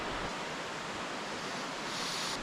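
A waterfall at a night camping spot without a tent, heard as a constant, even broadband rush of falling water, steady and moderately distant with no voices.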